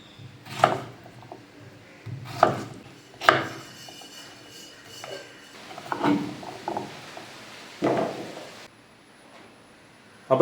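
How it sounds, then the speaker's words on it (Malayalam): Peeled, washed potatoes being cut into small pieces on a wooden board, with a few separate knife chops and scraping sounds spaced out, close and moderately quiet, with no talk. "ഇത് ചെറുതാക്കി ഒന്ന് നുറുക്കിയെടുക്കാം"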